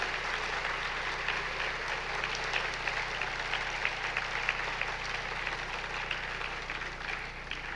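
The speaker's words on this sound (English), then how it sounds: "Everybody, let's give a round of applause for Shelby, Kellyn, and Timothy." Conference audience applauds three speakers after a Q&A session with sustained, even clapping that holds a constant level for several seconds over a low room hum.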